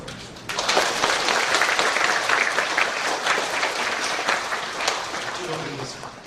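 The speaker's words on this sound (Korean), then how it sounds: "박수 한번 주십시오" Korean church congregation applauds during a Sunday worship service, a sustained even burst of many hands clapping that starts abruptly and tapers off, with voices faintly underneath.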